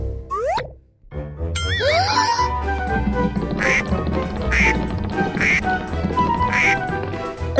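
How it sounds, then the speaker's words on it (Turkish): Cartoonish duck quacks sound repeatedly over bouncy background music with boing-like sound effects, loud and close, forming a steady series of quacks after a short opening effect. "Ördek?"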